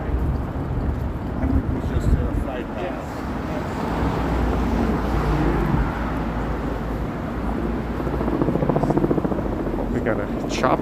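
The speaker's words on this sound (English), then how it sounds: "Got a chopper overhead." A traffic helicopter flies over downtown Toronto with a steady, loud rotor chop and engine rumble that swells and fades slightly, while someone talks over it.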